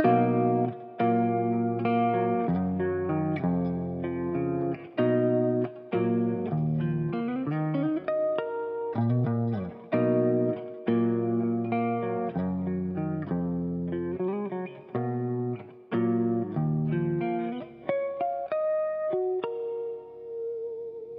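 An electric guitar plays a clean-tone song intro through chorus and reverb effects, a melodic sequence of picked notes and chords with shimmering, echoing sustain, loud and alone for about twenty seconds.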